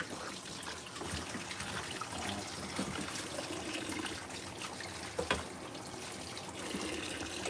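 Water runs steadily over beans being rinsed in an outdoor cooking setting, a continuous trickling wash with a few brief clatters, fairly quiet and without talk.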